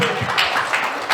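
A church congregation applauds at a revival gathering at a prayer retreat, a dense, steady patter of many hands clapping together throughout, with no pause.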